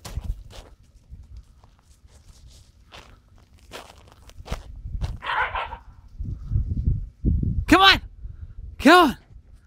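Dogs move around a home with footsteps and scuffling, and people talk nearby. Two short, loud barks ring out near the end.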